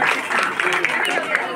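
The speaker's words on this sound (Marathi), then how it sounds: "हा जोरदार टाळ्या" An audience claps during a Navratri gondhal devotional performance for Goddess Tulja Bhavani, a dense burst of hand claps mixed with voices and singing.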